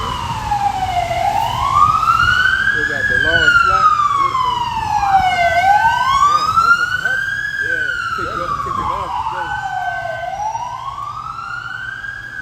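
Loud wailing sirens sweep up and down repeatedly, close by, while someone talks briefly underneath with traffic rumble.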